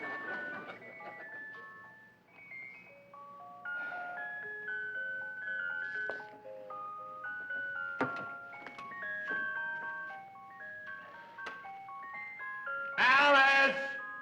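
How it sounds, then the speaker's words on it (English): Mr. Johnson's ice cream truck plays a steady chiming bell melody of clear repeating tones over a suburban street, moderately loud, with children's and adults' voices talking over it. "there's Mr. Johnson in his ice cream truck"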